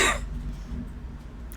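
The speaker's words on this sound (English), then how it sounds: "I'm just going to keep coughing, I apologize." A single short, sharp cough at the start, followed by quiet room tone.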